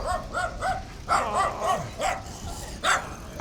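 A dog barks at a passing cyclist by the sea after sunset, giving a quick run of sharp, fairly close barks and yips; a person briefly exclaims.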